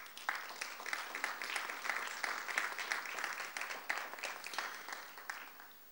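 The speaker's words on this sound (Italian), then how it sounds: "vi accoglierei anche con un applauso" Audience applause welcoming the mayor and deputy mayor onto the stage at a Fano waterfront presentation, a steady, moderately loud patter of many hands that thins out toward the end.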